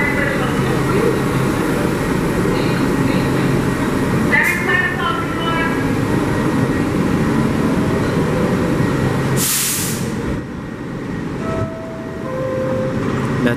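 A subway train rumbles steadily past in a loud continuous roar, with a door chime and a brief hiss of air partway through.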